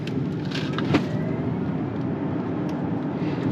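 2023 Genesis GV70 Electrified EV accelerating on the road, a steady low rumble of tyre and road noise with a faint rising electric whine, heard from inside the cabin.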